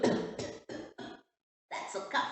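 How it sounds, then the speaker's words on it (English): A person coughs about four times in quick succession, close and fairly loud, then pauses before a final pair of coughs with throat clearing. "that's a cough."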